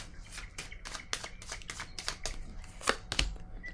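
Tarot cards laid down one after another on a table, a series of soft, sharp slaps and shuffles spaced irregularly, close and fairly quiet with no talk.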